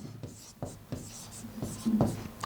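Marker or chalk writing on a classroom board during a Hindi grammar lesson, heard as a few short scratchy strokes with soft taps, close and moderately loud, with no speech over it.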